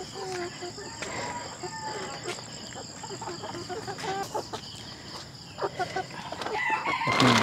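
Chickens at a Cebu poultry farm, with Lohmann layer pullets, cluck steadily while roosters crow repeatedly at close range over a constant bed of insect chirping, with brief human sounds in the background.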